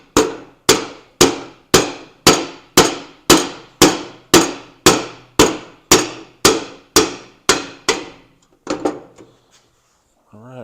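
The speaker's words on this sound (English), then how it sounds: "Let me get a brass hammer and hit it." A brass hammer strikes a bearing on a Jacobsen Chief 800 mower deck in a steady run of about fifteen sharp, ringing metallic blows at a brisk even pace, then a few scattered lighter knocks as it trails off.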